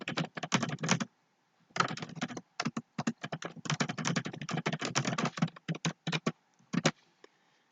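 Close, crisp bursts of typing on a computer keyboard, quick clusters of key clicks separated by short pauses, with no voices.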